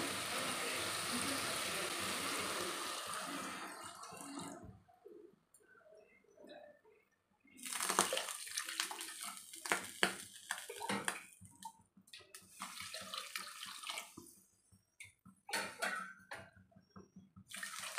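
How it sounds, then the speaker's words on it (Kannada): Water poured from a glass into a pressure cooker holding rice for chicken biryani, a close splashing pour that stops, then clinks of a metal pot and utensils follow in short bursts. "ಅದಕ್ಕೆ ಈ ಗ್ಲಾಸಲ್ಲೇ ನಾನು 4 ಗ್ಲಾಸ್ ನೀರು ಹಾಕೋತೀನಿ"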